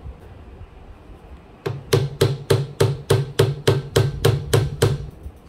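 A sewing machine motor is struck repeatedly to tighten its belt, about a dozen evenly spaced, loud, close metallic knocks coming in a steady rhythm.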